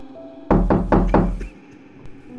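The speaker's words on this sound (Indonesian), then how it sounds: "ada yang mengetuk pintu kamarku" Knocking on a bedroom door in a boarding house in Bandung: four quick, firm knocks close by, followed by quiet.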